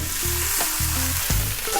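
Minced wagyu beef sizzles loudly in a hot pan with garlic and chili, a steady close hiss broken by a few clinks and stirring knocks, with no talking.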